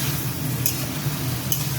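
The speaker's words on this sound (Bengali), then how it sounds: "ভালো করে ভাজা করে নিই।" Potato curry sizzles in a pan, a continuous hiss broken by two short scraping stirs.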